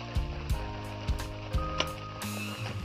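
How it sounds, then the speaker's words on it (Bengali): Spinach being stirred with sugar in a frying pan gives a steady sizzle, with several sharp scrapes and knocks of the spoon against the pan at irregular intervals. "এই চিনি দিয়ে আমি পালং শাকটাকে নাড়াচাড়া করছি"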